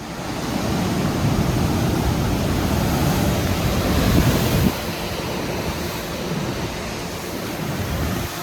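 Ocean surf at Spray Point rolls in on a 2.5-meter swell with the tide coming in, a loud continuous roar of breaking water mixed with wind buffeting the microphone.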